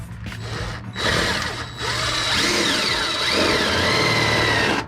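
Power drill driving self-tapping screws into a 2016 Chevy Silverado while fitting Magnum side steps, a loud, steady motor whine with rising and falling pitch sweeps, running nearly continuously with brief pauses and no talk.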